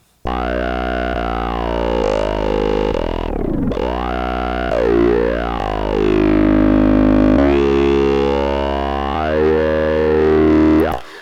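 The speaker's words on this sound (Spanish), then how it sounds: "Tenemos un efecto de ping pong para que el delay se vaya a izquierda-derecha" A sustained synthesized EDM vocal line with shifting pitch, washed in left-right ping-pong delay echoes and a sweeping phaser, loud and continuous with no talking.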